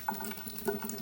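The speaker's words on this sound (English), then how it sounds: "I'm gonna add a little bit of water to this and just a few little drops." A few small drops of water are added to an exfoliating powder in a skincare routine; soft, close faucet-like trickling and light drips sound briefly and quietly with no talking.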